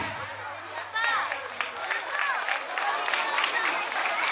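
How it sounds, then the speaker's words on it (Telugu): An audience at a school annual day applauds, a crowd's clapping building and continuing with scattered voices and chatter mixed in among the claps. "Give to big claps."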